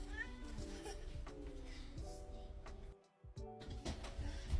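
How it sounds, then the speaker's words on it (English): A pet cat meows while its owner unboxes comic books at home, the calls rising over steady close room noise with a short quiet gap partway through. "My cat decided she wants to join me"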